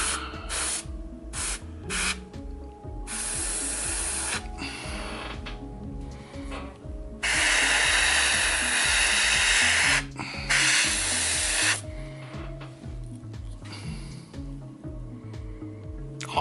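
Airbrush paint spraying onto a Kingdom Death Dragon King miniature in repeated hissing bursts, some short and some held for several seconds, loud and close, with music playing underneath.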